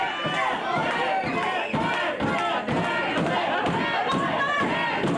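Wrestling arena crowd at a Red Dirt Wrestling event chanting in a rhythmic, pulsing pattern with cheering, loud and sustained throughout.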